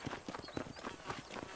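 Horse hooves clip-clop in quick, steady rhythm in the video game Red Dead Redemption, a soft, even trot.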